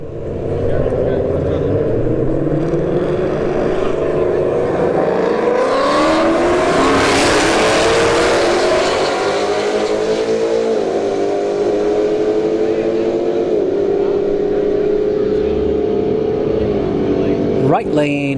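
Two Ford Mustangs drag racing down the strip at a test-and-tune event, with a loud engine roar rising in pitch through the gears as the cars launch and pull away, and a continuous mechanical drone throughout.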